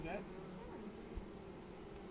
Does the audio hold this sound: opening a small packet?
no